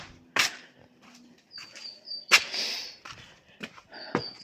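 Birds chirping outdoors: a few short, high, thin whistled calls come and go, mixed with sharp nearby knocks and rustling handling noises.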